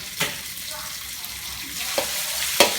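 Pork frying with garlic in a hot pan, a steady bright sizzle running throughout, broken by a few sharp clinks of a utensil stirring against the pan.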